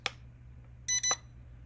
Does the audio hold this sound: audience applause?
no